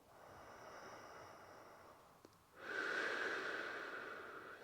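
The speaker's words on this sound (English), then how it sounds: "and we're just going to breathe" Slow diaphragm-exercise breathing, close and soft: a long, airy exhale fading out, a brief pause, then a fuller, louder inhale-like breath that slowly tapers, with no talk.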